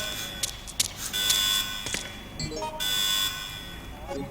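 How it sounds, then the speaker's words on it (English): Electronic alarm ringing in the survival horror video game Resident Evil Outbreak, a steady high-pitched tone with sharp beeping bursts running through the scene, while players talk over it in co-op play. "Yeah, there's the alarm going off here."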